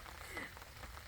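Gentle, steady rain without thunder falls in a quiet village, a faint, even patter heard from nearby over a brief moment.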